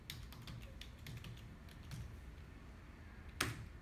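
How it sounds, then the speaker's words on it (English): Password being typed on a Mac computer keyboard, a short run of soft, close key taps ending in one sharper, louder keystroke. "So let's just type the password"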